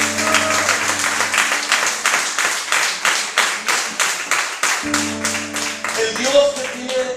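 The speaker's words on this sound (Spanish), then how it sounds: "Denle un aplauso al Señor Jesús." A church congregation claps in praise during a Spanish-language service, a steady run of sharp, rhythmic hand claps throughout, with sustained organ or keyboard tones underneath and a voice speaking over them.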